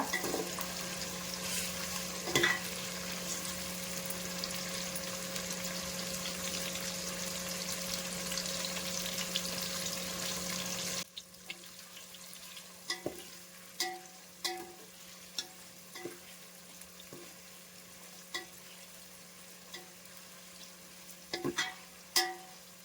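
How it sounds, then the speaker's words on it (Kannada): Masala rice ingredients fry in a pan with a steady, close sizzle for about half the time, then the hiss drops away and a string of sharp stirring scrapes and clinks follows. "ಚೆನ್ನಾಗಿ ಫ್ರೈ ಮಾಡಿ ಹಸಿ ವಾಸನೆ ಹೋಗೋ ತನಕ"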